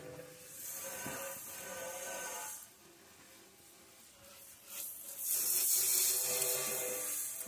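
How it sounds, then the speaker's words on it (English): Running tap water rinses a freshly scrubbed white kitchen sink, a steady close splashing hiss that swells louder toward the end. "Let me rinse it off so you can see it too."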